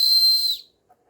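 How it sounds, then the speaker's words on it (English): A whistle built into a multi-tool tactical pen with a light gives one short, shrill, steady blast lasting about half a second, loud and close, then cuts off into silence. "And this is a whistle."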